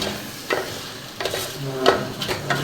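Crab curry stirred in a pan with a spoon, scraping strokes repeating every half second or so over a low steady sizzle, close and moderately loud, no voices.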